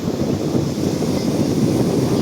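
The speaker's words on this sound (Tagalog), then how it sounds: "Laki ng alon" Strong wind buffets the microphone over the churn of big waves that are still rolling in after a typhoon has passed. The roar is dense and continuous, with no speech.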